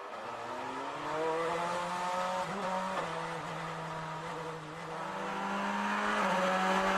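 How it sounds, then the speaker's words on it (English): GT race cars roar past at Watkins Glen, one engine note climbing and shifting through gears as the car accelerates, its tone rising and falling against a steady track background, with no voices. "as the race goes back to green, the only thing on Jordan Taylor's mind is finding his way by this number 63 Iron Lynx Lamborghini of Jordan Pepper"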